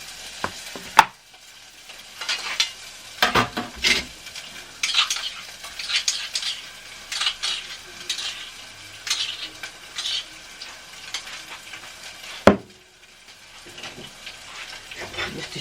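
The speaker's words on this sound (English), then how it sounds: "I'm going to add a bit more olive oil into my saucepan for the garlic and the coriander" Garlic and coriander fry in olive oil in a saucepan with a steady, close sizzle, broken by scraping stirs and a couple of sharp utensil clanks against the pan.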